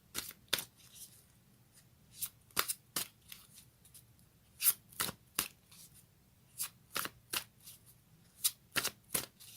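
A deck of fairy tarot cards is shuffled in quick riffling bursts, about a dozen crisp flutters spaced irregularly over a quiet room.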